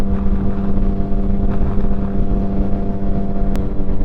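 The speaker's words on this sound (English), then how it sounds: "I'm riding this motorcycle like I'm good on gas." A motorcycle engine drones steadily while riding on a windy day, a loud, continuous low hum with a strong constant pitch and rushing wind noise over it, no voices.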